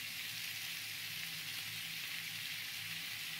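Chhana and pointed gourd frying in oil with a little salt, a steady, even sizzle running throughout at moderate loudness with no voices.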